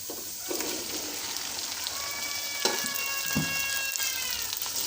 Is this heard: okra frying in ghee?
yes